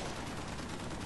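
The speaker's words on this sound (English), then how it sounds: "just pop off 3 shots. You know, tap the trigger 3 times" Semi-automatic FAL rifle fire in a first-person shooter game, three tapped shots blending into a continuous dense crackle of gunfire with steady loudness and no distinct gaps.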